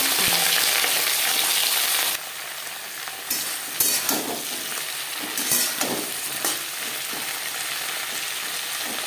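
Beans hit hot cumin tempering in mustard oil, bursting into a loud, broad sizzle that settles into steady frying, with scraping stirs and a few spoon knocks against the pan.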